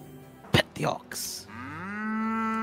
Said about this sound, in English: Pet the ox.